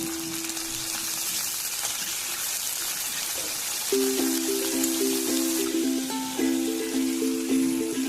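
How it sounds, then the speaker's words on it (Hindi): Water pours into a pan of mustard seeds and chopped green chillies with a soft continuous splashing hiss, fairly quiet, while tonal beeps sound in the background. "और थोड़ा सा पानी डालेंगे।"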